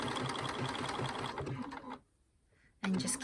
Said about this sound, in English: And just keep zigzag stitching.